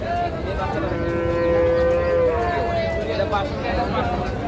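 A Sahiwal cow with her calf at a busy cattle market gives one long, low, drawn-out moo that dominates the middle of the clip, set against steady crowd chatter and voices.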